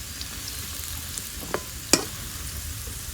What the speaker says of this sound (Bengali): পেঁয়াজটা আমি বেশি ভাজবো না, হালকা করেই ভাজবো